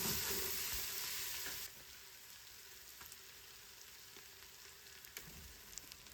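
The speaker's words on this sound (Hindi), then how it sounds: "प्याज, लहसुन और अदरक बहुत अच्छी तरह से भून चुका है" Onion, garlic and ginger paste fries in a pot for mutton paya with a loud, steady sizzle that drops sharply in volume partway through and then hisses softly with faint clinks.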